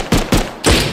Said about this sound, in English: I'm gonna throw a grenade that way.